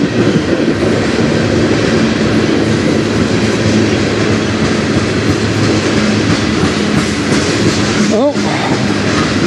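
A CN train rolls past on the Strathroy Subdivision, a loud, steady rumble with rhythmic wheel clatter and a brief high wheel squeal near the end.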